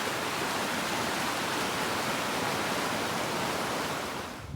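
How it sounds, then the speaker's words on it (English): Steady rushing water pours without a break, a broad hiss like a full creek flowing nearby in the Alaska backcountry, and no other sounds. "These creeks are pretty full of water."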